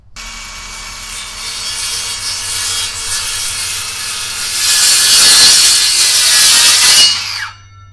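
FLEX in-line circular saw cutting into wood, a loud close whine that rises in strain midway through the cut, then stops abruptly as the motor winds down, with no talk.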